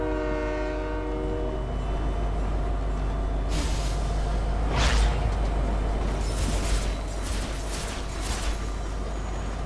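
A train in Fortnite rolls past, loud and steady, with a rumbling low drone, a sustained horn tone at the start and bursts of hissing brake noise midway.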